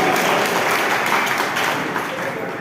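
A group of people clapping their hands together in a gathering, a steady dense wash of applause filling the whole short stretch without pause.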